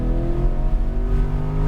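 A Corvette C8 on a race track pulls hard under throttle, its engine note a loud, rising harmonic drone held close for a short burst with no talk over it.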